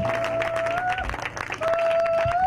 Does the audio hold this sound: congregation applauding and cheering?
yes